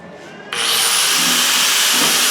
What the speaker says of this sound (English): Now what I'm going to do is I'm going to cut this way a little bit.